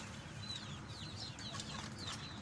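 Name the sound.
Australorp breeder chickens clucking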